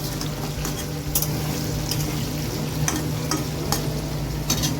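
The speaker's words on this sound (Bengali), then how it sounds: "আলুগুলোকে গ্যাসটা বাড়িয়ে ভালো করে ভেজে নিই লাল করে" Potatoes frying in a pan over a high gas flame, giving a loud, steady, close sizzle with occasional scraping stir strokes cutting through.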